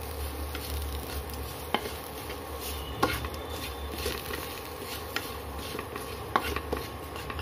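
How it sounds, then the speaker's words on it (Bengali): Turmeric, coriander and cumin powder stirred into lightly fried potato and papaya in a pan, with a soft scraping and sizzling throughout and a few light knocks of the spoon against the pot, no talking. "তো এটা দিয়ে হালকা নেড়ে এবার জল দিয়ে দেব।"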